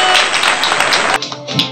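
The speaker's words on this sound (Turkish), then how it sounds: "Alkışlayalım." Applause from a small group of children and adults clapping at a children's birthday party with a strawberry cake, close and lively, with a brief pause before a few more claps resume.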